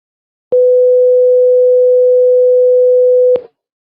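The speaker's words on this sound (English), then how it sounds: "this bottom one is a sine wave of 500 hertz" A pure 500 Hz sine wave tone sounds alone as a single steady, loud note, starting and stopping abruptly and lasting nearly three seconds.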